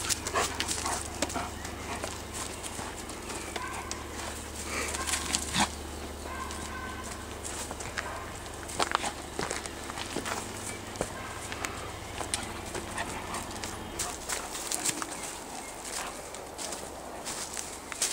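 A dog moves about nearby, with soft panting, shuffling steps and faint whimpers over a steady background hum, while someone speaks gently to it in Finnish now and then.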